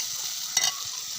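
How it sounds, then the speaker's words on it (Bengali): Jackfruit seeds and potatoes fry in a pan with salt, a steady close sizzle broken by one short stirring scrape near the middle of the brief moment. "তাই এদিন লাল করে একটু হালকা ভেজে নেব।"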